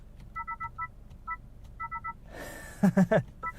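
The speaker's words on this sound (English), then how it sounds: "When you increase the brightness or decrease the brightness of your gauge cluster, Makes these little noises" Short electronic beeps chirp in quick clusters from a 2022 Honda Civic Touring sedan's dashboard as gauge cluster brightness is adjusted, followed by a brief louder chime sequence, with faint background hum.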